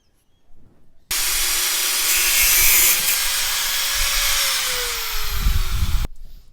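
Pipe for a homemade quail feeder being cut to about 35 centimetres, a steady loud hissing, rasping cut lasting around five seconds close by, with a faint tone sliding lower toward the end before it stops abruptly.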